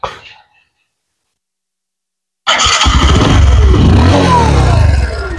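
A 2022-model Bajaj Discover 125 (125 cc) motorcycle engine fires up after a silent pause, then runs loud and close with rough, throbbing revs; a faint voice-like sound precedes the start.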